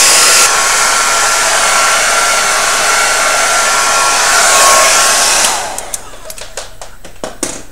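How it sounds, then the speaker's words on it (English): A hair dryer blows steadily and loudly over wet wavy hair, a broad continuous whoosh that cuts off near the end, leaving a few faint handling clicks and knocks. "I just blow dry pretty much the top, a little bit of the edges"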